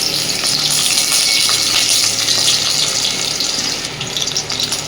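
Chopped taro stolons and potato frying in a hot pan, a loud continuous hiss and crackle of sizzling oil holding steady from start to finish with no talk.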